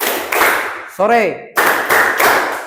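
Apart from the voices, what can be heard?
class clapping hands twice on cue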